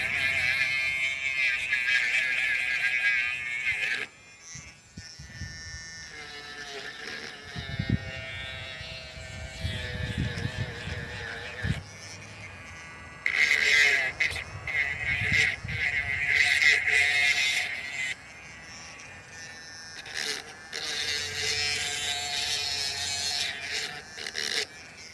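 Dremel rotary tool grinding and sharpening a metal lock pick, rounding off leftover spurs and edges; a steady high buzzing whine that stops and restarts in several bursts over about 25 seconds, with brief pauses between passes.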